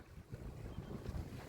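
Wind gusting over a sailboat under way in about 20 knots, a soft low buffeting rush with faint water wash, quiet and without voices.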